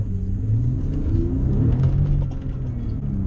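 A 2006 Bentley Continental GT Mulliner with a W12 twin-turbo engine accelerates hard in sports mode, giving a loud, steady low rumble and rising engine drone heard from close by with no talking.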